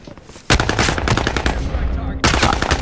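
Rapid automatic gunfire in Call of Duty: Modern Warfare bursts in loud and close, a dense, continuous rattle of shots that briefly thins before a second heavy volley.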